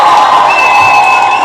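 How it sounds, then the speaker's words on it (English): An audience cheers and applauds loudly, a dense continuous roar of crowd voices with whistling over a short stretch. "So you all deserve a round of applause."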